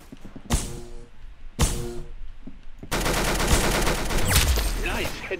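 Gunshots in the Roblox video game Arsenal: two separate sharp shots ring out with short echoing tails, then a loud continuous stretch of rapid fire, all close and punchy with a faint voice at times.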